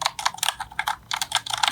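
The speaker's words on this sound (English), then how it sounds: "I love the keyboard. This is so nice to type on." Rapid typing on a Tecware Phantom L mechanical gaming keyboard, with close, crisp key clacks in quick irregular bursts and brief pauses between them.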